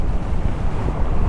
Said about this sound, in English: The wind is high.